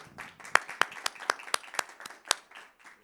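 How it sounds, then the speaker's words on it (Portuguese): Audience clapping welcoming journalist and writer Carlos Marcelo onto the stage of the Armando Nogueira auditorium at a book fair, a sparse run of distinct claps at a steady pace, moderately near, with no voice over it. "Palmas para o Carlos Marcelo,"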